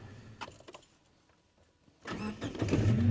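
A car's engine starts up during a driving lesson, with faint jangling and clicks at first, then a loud rough rumble that builds in the last second.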